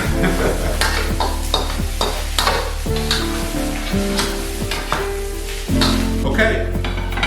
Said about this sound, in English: after you stir fried it for a few more extra minutes, you're gonna kill your heat